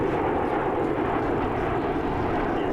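Aircraft at a Huntington Beach airshow cruising through a turn in fog, a continuous broad engine roar that stays steady and fairly loud throughout, with no voices over it.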